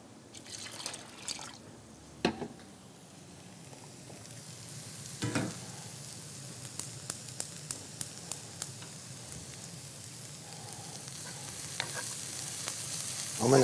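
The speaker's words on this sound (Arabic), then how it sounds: "ومنحرك البصل" Onions frying and stirred in a pan while cooking chicken with thyme and green beans: a quiet, constant sizzle close by, broken by a few spoon scrapes and a run of light taps against the pan.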